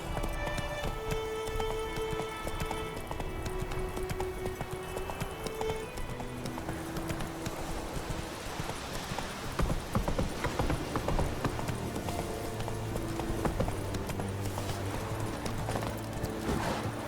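A horse gallops in The Witcher 3 video game, a steady clip-clop of hooves over roughly seventeen seconds, mixed with game music and ambient sound.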